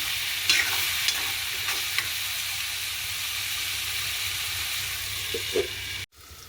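Eggplant sautés in oil in a pan, giving a close, steady frying hiss with occasional faint clicks of stirring. The sound cuts off abruptly near the end.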